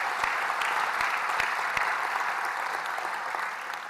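An audience at an announcement event claps in sustained applause, a dense, even wash of many hands with a few sharper near claps, steady and fairly loud throughout.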